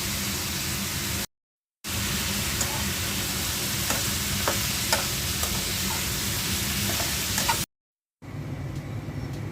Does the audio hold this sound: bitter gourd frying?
yes